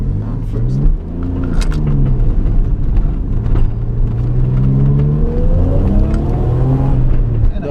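A 1992 Suzuki Cappuccino's small engine drones steadily in first gear while descending Mt. Rokko, its pitch sliding up and down with throttle changes, loud and continuous inside the car.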